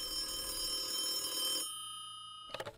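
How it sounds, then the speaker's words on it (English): A telephone bell rings loud and close in one sustained burst for about a second and a half, then cuts off abruptly, followed after a pause by a few short, sharp clicks or knocks. "Then the phone rings."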